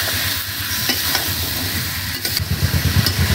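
Chicken with cauliflower and tomato being stirred and fried in a pan, a loud continuous sizzle with rough scraping and clattering strokes that grow busier toward the end.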